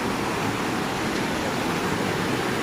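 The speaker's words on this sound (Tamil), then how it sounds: "பாருங்கள், இதை திருமூர்த்தி மலை அருவி ஆறு எல்லாமே" A waterfall and river in the Thirumoorthy Hills pour with a dense, unbroken rushing roar, steady and close, with no other sounds standing out.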